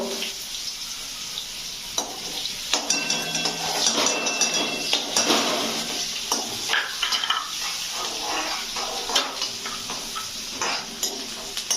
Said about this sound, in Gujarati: હવે એને ચમચાથી હલાવો